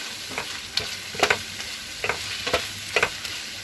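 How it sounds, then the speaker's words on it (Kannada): Tomatoes with coriander and salt frying in a pan, stirred in repeated scraping strokes over a steady sizzle, close and fairly loud, with no voices. "ಟೊಮೊಟೊ ಜೊತೆನೇ ಇದನ್ನು ಚೆನ್ನಾಗಿ ಮಾಗಿಸ್ಕೊಳ್ತಾ ಇದ್ದೀನಿ."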